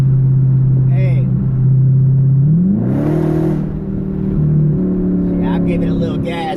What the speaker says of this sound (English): Give it a little gas so y'all can hear them pipes